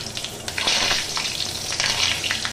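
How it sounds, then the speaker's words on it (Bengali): Five halved, dried whole red chillies fry in hot oil with a dense, continuous sizzle, broken by faint stirring clicks and crackles, close and alone with no voices. "এবার শুকনো লঙ্কাটাকে অর্ধেক করে নিয়ে তেলের মধ্যে দিয়ে দিলাম"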